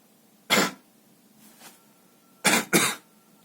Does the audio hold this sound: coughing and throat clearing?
yes